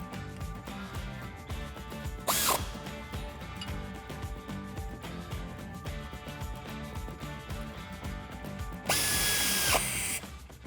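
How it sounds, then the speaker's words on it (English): Bolts on a Jeep Wrangler JL lift kit are tightened with an Allen key and wrench, giving steady close ratcheting clicks with two short bursts of louder power-tool whirring, no talk. "Grab your 6mm Allen key and 14mm wrench and get these tightened down."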